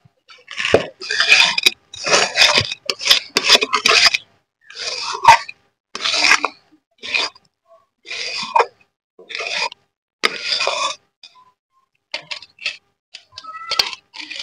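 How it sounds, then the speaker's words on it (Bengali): Pea kachori filling being scraped out of a pan, a series of short, close rasping scrapes of a utensil against the metal, in bursts separated by brief silences, growing lighter and sparser toward the end. "এবার আমি কচুরির পুরটাকে তুলে নেব।"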